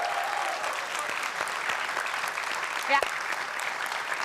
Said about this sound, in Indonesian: Tepuk tangan dulu dong buat mereka.